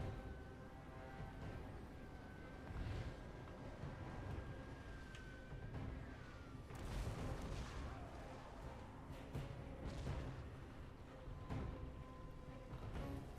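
Artillery fire in the video game Total War: Warhammer 2. Continuous rumbling booms and rolling cannon and mortar blasts overlap in a dense, distant battle din, with several sharper blasts standing out over the steady roar.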